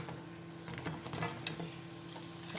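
Salty-filled or bean-filled Thai dough snacks frying in oil, a dense continuous sizzle and crackle, close and fairly even, with faint scraping pops scattered through and no voices.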